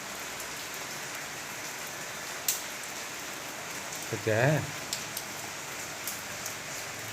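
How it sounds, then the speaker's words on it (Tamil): Steady rain patters on surfaces with flowing water, a brief voice speaking briefly over it. "இப்போ மழை தண்ணி இப்படி போகுது பாரு"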